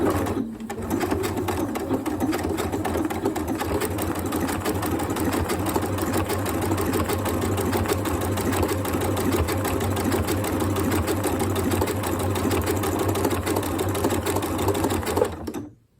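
A Janome Royal sewing machine stitches an applique, its steady motor hum and rapid needle chatter running continuously and close for about fifteen seconds before stopping abruptly at the end.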